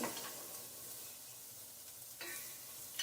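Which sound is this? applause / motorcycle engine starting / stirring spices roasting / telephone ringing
stirring spices roasting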